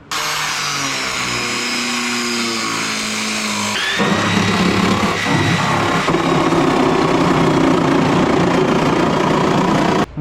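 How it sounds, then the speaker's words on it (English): A cut-off wheel grinds through the steel floor pan of a Datsun 240Z, running steadily for about ten seconds with a loud, continuous whine that shifts pitch midway as the disc bites into the metal. "let's start with cutting a slit right here with the cut wheel, and then that'll give us our starting point with the Sawzall."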